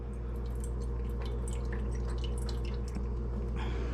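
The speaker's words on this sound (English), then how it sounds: "We're going to drain the water off." Water drains from a can of diced tomatoes in a kitchen, making quick, irregular drips and spatters over a steady low hum, close by, with no talking.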